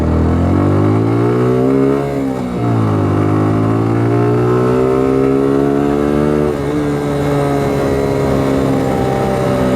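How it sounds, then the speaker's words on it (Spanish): A Suzuki Gixxer SF motorcycle engine is loud and close, dropping in pitch as it engine-brakes, then climbing as it accelerates again, with a steady rising drone through the gear changes. "¿Qué les parece el sonido?"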